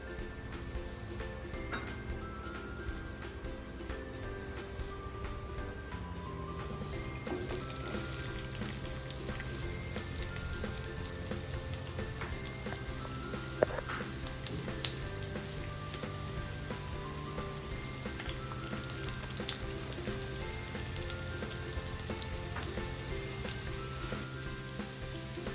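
Onions frying in about three tablespoons of oil in a pan for paneer dum biryani gravy, a steady dense sizzle that holds evenly throughout, close and continuous with no talk.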